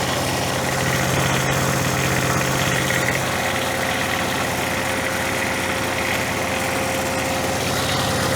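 Diesel engine of a neglected Ventrac 4500Y tractor running steadily near the mic, a constant mid-low rumble and vibration that rises slightly in intensity early on, with no voices.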